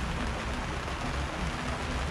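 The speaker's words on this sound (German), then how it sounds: "Es regnet schon seit 2 Tagen." Steady rain falls in Acapulco during the rainy season, a dense even hiss of drops with no breaks.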